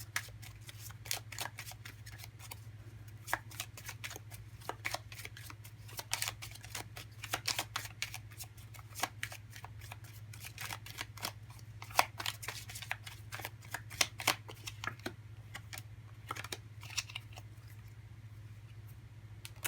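Tarot cards being shuffled by hand for a pick-a-card reading, a quiet continuous run of soft riffling clicks and snaps, close up over a low steady hum, with no talking.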